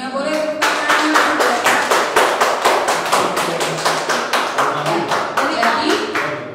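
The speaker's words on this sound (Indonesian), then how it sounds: "Boleh tepuk tangan" A classroom audience gives a round of synchronized rhythmic clapping, steady even beats at roughly three per second, loud and close, with a murmur of voices underneath.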